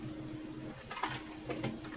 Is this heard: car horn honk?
no